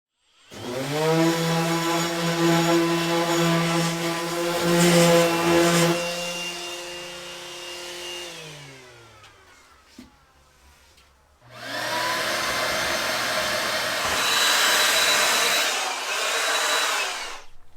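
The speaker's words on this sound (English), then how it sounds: "Now to cut out the sink portion, the basin, I drilled all 4 corners out and then used my jigsaw." Jigsaw cutting a sink opening in a countertop with drilled corners, a loud buzzing whine that runs for several seconds, winds down, then starts again for a second long cut, heard close with no talking.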